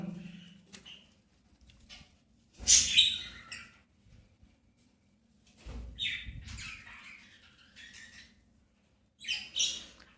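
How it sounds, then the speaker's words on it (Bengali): A caged badsha bird gives a few short, sharp calls and squawks separated by pauses, fairly close and clear against a quiet background. "দেখো এটা কিন্তু বাদশা পাখি"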